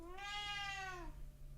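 A cat gives a single clear, drawn-out meow of about one second, close and alone over a faint steady hum.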